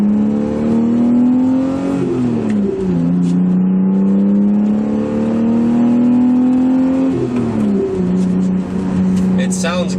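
A straight-piped BMW E36 exhaust revs at high RPM, a loud, raspy drone that climbs, holds and falls across two or three rev cycles, rising and dipping in pitch.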